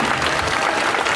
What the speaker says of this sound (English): you guys can give Akasha another big round of applause